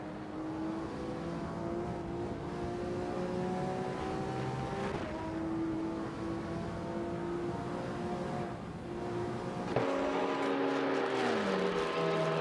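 Hypercars racing at Spa in a video game, engines droning steadily at high revs with gear changes and a sharp shift near the end, loud and continuous with no talking.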